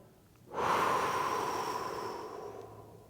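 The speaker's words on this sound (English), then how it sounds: "And then as I breathe out" A long, forceful exhale during a back-arching stretch, starting abruptly and holding as a steady breathy rush for nearly three seconds before tapering off, close and alone.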